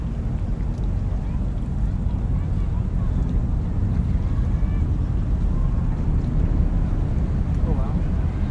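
A deep, continuous rumbling roar of a rocket launch at Cape Canaveral fills the whole stretch, steady and broad like a distant engine, with wind buffeting the microphone throughout.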